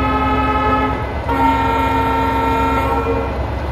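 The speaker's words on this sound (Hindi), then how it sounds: "वैसे यार इन दोनों हॉर्न्स में से कौन सा हॉर्न आपको सबसे ज़्यादा पसंद आ रहा है?" Loud, sustained horn of a passing diesel locomotive on a Chennai line, a steady multi-tone chord that shifts pitch partway through, over continuous rumble of rolling rail wagons.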